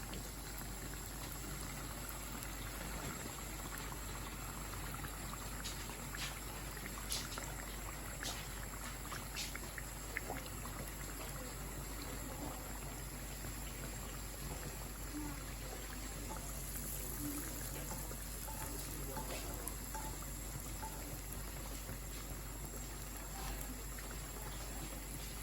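Small round Bangladeshi handesh sweet dumplings deep-frying in a pan of oil, a steady continuous bubbling sizzle with faint crackles and occasional small pops throughout, close and fairly quiet with no talking.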